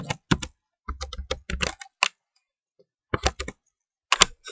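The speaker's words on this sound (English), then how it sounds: "I'm typing something because I'm trying to do some research on something." Bursts of typing on a computer keyboard, quick clusters of close, crisp key clicks separated by short silent pauses.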